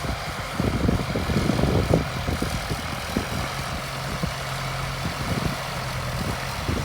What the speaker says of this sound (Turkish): şu an çok toprak aldığı için traktörü de biraz zorladı açıkçası